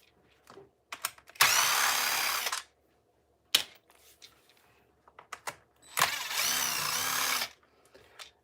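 A power screwdriver backing screws out of an RC car, two whirring runs of about a second each with short clicks and handling taps between them, close and clear.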